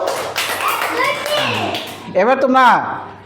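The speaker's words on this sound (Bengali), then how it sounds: "সেবাদের জন্য একটা হাততালি দাও" Second-grade children in a classroom clap for classmates, short scattered claps mixed with kids' voices, a teacher talking and a burst of excited chatter toward the end.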